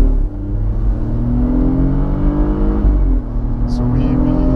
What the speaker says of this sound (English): the first exercise would be to accelerate to 130 kilometers per hour. Okay, perfect. Full load. Full load from here.